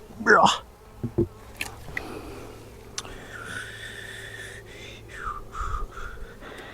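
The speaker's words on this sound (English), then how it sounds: "I just don't think there's as many bees in this one." Bees buzz around a beehive at a vineyard, a sustained hum with whining passes as individual insects fly close by. A few soft knocks and brief voices sound early, and the humming drone continues throughout.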